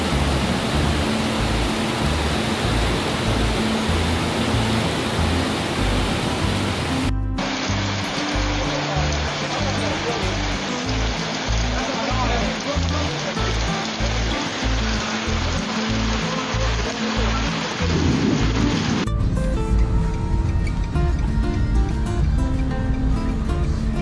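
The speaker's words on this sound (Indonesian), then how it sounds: "Hujan deras campur angin." Heavy rain mixed with wind roars as a dense, loud, unbroken hiss across the whole stretch during a storm in Semarang, its tone shifting partway through.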